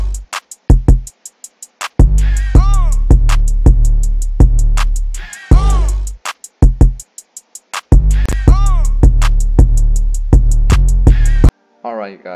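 Ambient trap-style FL Studio drum beat with punchy kicks, heavy 808 and scattered accent hits, playing in loud stop-start bursts with brief gaps before cutting off at the end.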